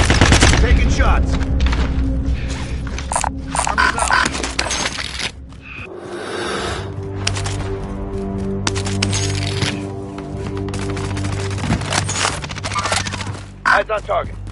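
Gunfire in the Warzone battle royale game comes in loud, rapid bursts and crackling volleys, pausing briefly midway before resuming, with a voice heard over parts of it.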